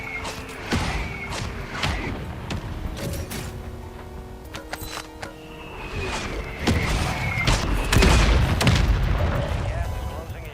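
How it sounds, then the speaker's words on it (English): Mortar strike explosions in a first-person shooter match hit in repeated heavy booms and sharp cracks among mechanical clanks and creaks, building louder toward the end amid a dense battle mix. "Mortar strike inbound."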